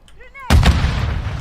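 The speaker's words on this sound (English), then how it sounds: "Stun grenade out." Stun grenade in a video game: a sudden loud bang about halfway through, with a sustained ringing, rumbling wash after it, preceded by brief tonal game chirps.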